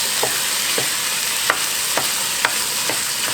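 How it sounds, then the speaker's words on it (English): Cream cheese melts with black beans in a hot pot while a spoon stirs through it, sending a steady close sizzle under periodic scraping strokes about every half second, with no voices. "I'm going to keep stirring and get that mixed in"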